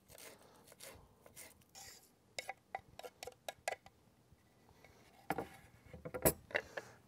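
A knife roughly chopping fresh basil on a cutting board gives irregular, close, crisp taps in short runs and scattered single strikes.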